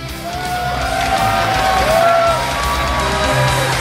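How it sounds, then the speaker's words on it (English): Large crowd at a StarCraft II esports world championship event roars for the Korean team, loud sustained cheering and whooping with clapping underneath, a thick arena wash that swells slightly in the middle. "To give a round of applause to the Korean team"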